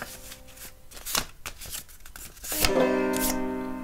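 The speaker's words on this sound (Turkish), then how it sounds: "Bu kağıdı ikiye katlıyorum. Sonra bir kez daha katlıyorum." A sheet of paper is folded in half and then again, giving crisp, close rustling and creasing swishes in short bursts, with a louder crackle near the end.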